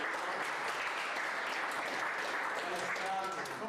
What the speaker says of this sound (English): it's always good to forget somebody because they get the biggest applause at the end